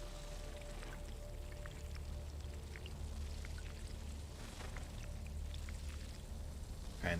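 Fresh water trickling into a bottle in Dune: Awakening: a faint, steady pouring with small droplet splashes over a low ambient hum, no talk.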